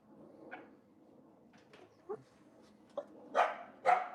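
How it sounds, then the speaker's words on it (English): A puppy gives a few scattered yips and short barks, quiet at first and then louder, in otherwise calm surroundings. "That's a puppy."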